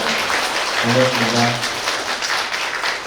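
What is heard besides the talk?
applause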